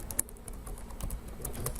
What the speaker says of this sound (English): So what are we typing here?